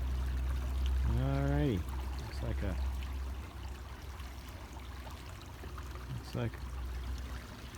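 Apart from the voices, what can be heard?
river water flowing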